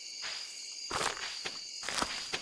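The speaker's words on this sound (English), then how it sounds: "Very good cricket noises." Evening crickets in Stardew Valley, a continuous shrill chirping bed with a few soft footstep taps on top, short and steady.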